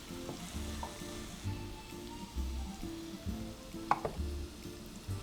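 Onion frying over low heat in a pan, a steady soft sizzle running throughout, with occasional light clinks and stirring scrapes near the end.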